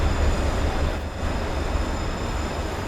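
Trains passing in the Destiny 2 video game, a continuous loud rumbling roar with a faint high whine, close by and steady for the whole stretch with no talk.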